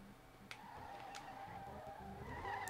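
Tyres of a Bugatti Veyron skid in a long drift in the racing game SLRR, a continuous squeal over engine drone, moderately loud and steady with a couple of sharp ticks.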